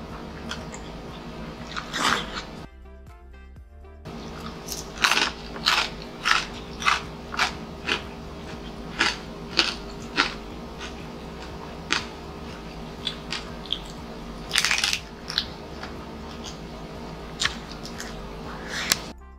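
Close-up crunchy biting and chewing while eating food with homemade Korean red paste, a series of loud crisp crunches spaced a second or so apart, with occasional clinks and no talking.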